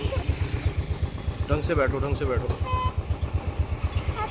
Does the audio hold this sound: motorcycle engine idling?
yes